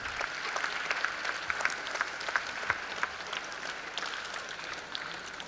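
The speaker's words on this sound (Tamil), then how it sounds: "இப்போ நம்ம கைத்தட்டலாம்" Steady applause from the audience at a mallakhamb championship, even and moderately distant, with individual claps standing out against the crowd throughout.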